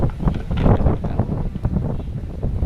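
Strong wind whooshes and buffets across an outdoor microphone, a loud, continuous low roar with gusty surges and no clear speech.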